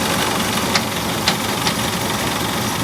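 A 1968 Ford LTD engine idles with a dense, even hum while its AC compressor gives about three sharp, irregular knocks close up.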